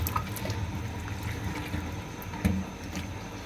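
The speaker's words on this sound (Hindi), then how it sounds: "ये बारीक छन्नी में आपने वॉश करना है, क्योंकि कीमा बहुत बारीक होता है" Water runs steadily as minced beef is rinsed in a fine sieve, a continuous close splashing flow with small clinks.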